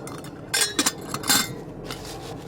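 Metal clinks and scrapes close by as a Solo Stove is lifted out of the Solo Stove Pot 900, a few sharp bright knocks in quick succession, then quieter rustling.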